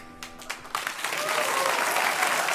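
Studio audience applause on a German late-night comedy show starts with a few scattered claps, then swells within a second into a full, steady roar of clapping that carries to the end.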